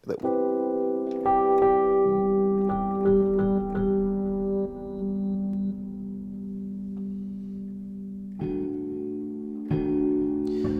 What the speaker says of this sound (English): it's the sound of the Tine sort of all undamped